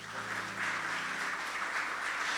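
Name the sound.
congregation applause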